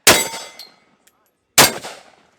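Two loud, sharp rifle shots ring out at an outdoor shooting range about a second and a half apart, each a sudden crack that fades quickly with a metallic ring.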